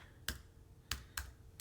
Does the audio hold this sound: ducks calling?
no